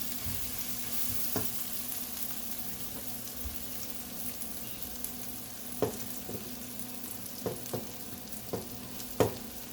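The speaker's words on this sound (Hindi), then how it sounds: "अब इसमें हम राइस शामिल करेंगे, मिक्स कर लेते हैं।" Rice is stirred into a pan with fried egg for egg fried rice, a soft steady sizzle broken by scattered scraping and tapping knocks from the spatula.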